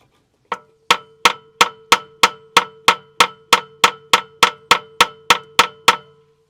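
A hammer strikes the block of a long-idle supercharged V12 GM Detroit two-stroke diesel in a dump truck, about sixteen sharp metallic taps at a steady, even rhythm, close and loud with a faint ringing tone between them.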